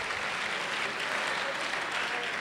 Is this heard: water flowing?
no